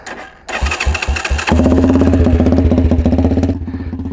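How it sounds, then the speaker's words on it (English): A custom motorcycle fitted with a swapped engine cranks a few rhythmic times, then catches and settles into a loud, steady, lumpy idle close by, with no talking over it. "Let's go ahead and get this thing fired up."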